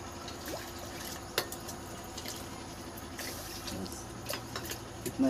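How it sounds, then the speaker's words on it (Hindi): Water poured into a pot to be heated for cooking in a rural Indian kitchen, a soft liquid trickle and splash with a few knocks and clinks, fairly faint, with no voices. "तो यहाँ पे पानी डाल रहे हैं, पानी को गर्म करना होगा।"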